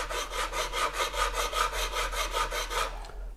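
A leveling file rasps back and forth along the frets of a Stingray bass guitar neck, following a 12-inch radius, making about a dozen steady, evenly paced swipes close up and alone before stopping.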